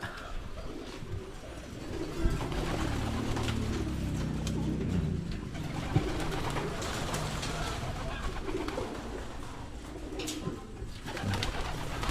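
Feeding pigeons coo softly and repeatedly against a busy background of rustling and flutters, with faint voices now and then.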